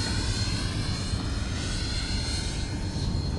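An 89mm ducted fan RC plane at full throttle, giving a steady loud whooshing roar that holds without break, close and unbroken, with no voices over it.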